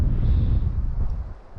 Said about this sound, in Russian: Поднялся сильный ветер.